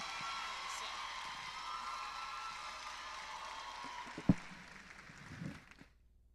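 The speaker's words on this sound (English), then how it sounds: "thank you for the applause" Faint, sustained applause from an audience at a medical college induction and oath-taking ceremony, a soft continuous patter lasting several seconds before dying out, followed by a brief thump and murmur.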